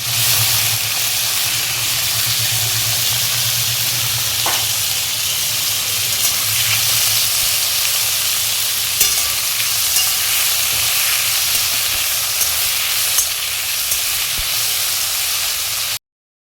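Potatoes fry in hot oil with black cumin, chilli and onion. A loud, continuous close-up hiss and sizzle carries on throughout, with a few faint clinks and no talking.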